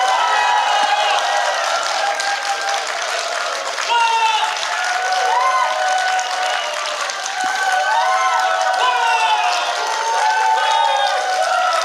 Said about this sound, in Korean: 소설 장아리의 저자 추미애 작가님을 모시고 북 콘서트를 여러분의 박수와 함성으로 시작하겠습니다